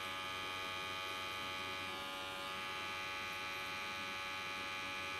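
BaBylissPro hair trimmer cutting hair in a barbershop, a steady close electric buzz and hum running unbroken throughout with no talk.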